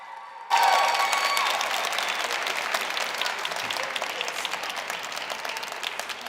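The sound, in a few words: audience applause after speech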